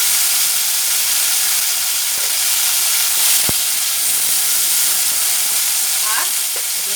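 Chopped tomato hits hot oil, giving a loud, steady hiss of sizzling steam throughout, with a sharp tap partway through and faint voice-like sounds near the end.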